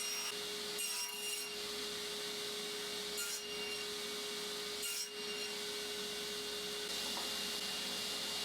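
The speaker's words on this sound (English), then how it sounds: "For the sides, I'm going to make a few dado cuts" A table saw guided by a miter gauge cuts dadoes in wood for the sides of a wall tool holder, a continuous, fairly faint rasping drone with a few brief breaks where the blade passes through the board.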